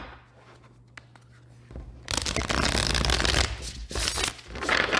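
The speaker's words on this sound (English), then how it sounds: "Last bit of the shuffle" Tarot cards being shuffled at close range: after a quiet start, a dense riffling rush begins about two seconds in and keeps going in loud, continuous bursts with brief dips.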